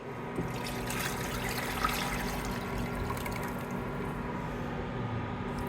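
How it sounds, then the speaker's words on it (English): Water pours steadily into a cooking pot holding mung beans and spices for soup, a continuous close splashing trickle with no talk. "Now we're ready to add in our mung beans with water."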